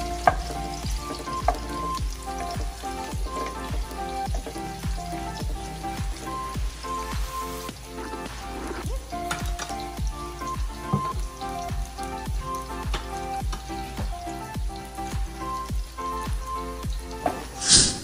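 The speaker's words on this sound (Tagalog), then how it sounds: "lutuin natin ng maigi ang garlic hanggang maging golden brown" Garlic frying in oil toward golden brown for chicken afritada, a steady dense sizzle with frequent small crackles and pops running throughout, moderately loud and close with no talking.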